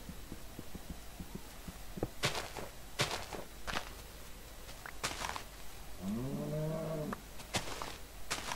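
A Minecraft cow gives a single low, drawn-out moo near the end, following scattered footstep-like clicks and short bursts of game sounds over a quiet hum.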